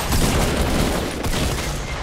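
Gunfire in the Fortnite battle royale video game, a dense continuous burst of loud shots and blasts filling the whole moment, close and harsh.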